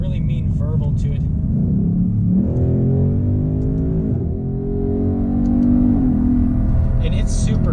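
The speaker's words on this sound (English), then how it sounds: "Okay, so we'll kind of get a little bit of an acceleration run here." A 2018 Ford Mustang with a 10-speed automatic accelerating hard, its deep engine note climbing in pitch and then dropping at quick gear shifts, loud and close inside the car with a voice speaking over it.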